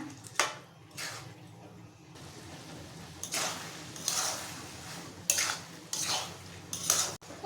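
Raw rice being fried and stirred in a pot for a quick chicken keema biryani, with a spoon scraping and clinking against the metal in irregular bursts over a low steady sizzle, close and moderately loud.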